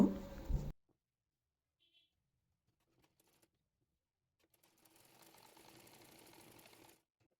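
A sewing machine stitches the seams of a kameez in a short, faint, steady whir late in the moment, after a brief louder knock at the very start and near silence between.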